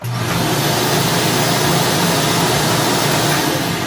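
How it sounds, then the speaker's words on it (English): Steady, loud broadband whirring of a Eureka WhirlWind upright vacuum cleaner motor running continuously, close by, with no talking. "Let's go ahead and turn it on, and I'll show you guys how quiet it actually is."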